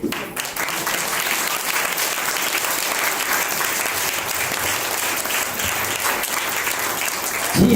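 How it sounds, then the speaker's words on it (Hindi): Steady, loud applause from a seated audience at a church gathering in Chandrapur. The clapping is dense and unbroken and keeps a constant level for the whole stretch. "फिर से एक बार जोरदार तालियां मेरे जिंदा खुदा के लिए।"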